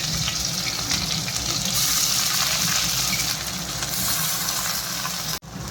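Chopped onion and green chili fry in a pan of hot oil for a Bengali fish curry, giving a loud, steady, close sizzle that breaks off briefly near the end.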